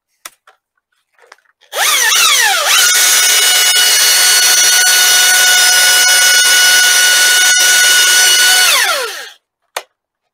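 A chainsaw revs up and cuts into a standing tree below the kerf, holding a loud, steady whining drone for several seconds before winding down, with faint knocks before and after.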